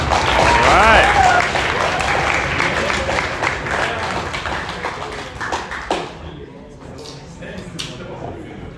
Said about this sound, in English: You can applaud them, you know, they have a lot of courage.